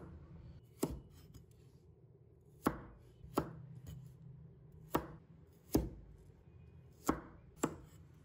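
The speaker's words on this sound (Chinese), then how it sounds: "黄瓜我们要切成细条" A knife chops cucumber into thin strips on a cutting board, giving seven or eight sharp, close knocks at uneven intervals against a quiet background, with no talking.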